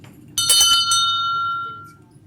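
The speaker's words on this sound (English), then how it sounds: "What this is called is a crier's bell." A single shake of a crier's hand bell gives a few quick bright strikes, then a clear ringing tone that slowly fades away, close and loud.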